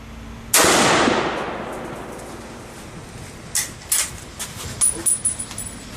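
A Browning X-Bolt Medallion 30-06 rifle fires one sharp, loud shot outdoors, and the boom decays over about two seconds. A few lighter clicks and clatters follow, like the bolt working and a casing ejecting.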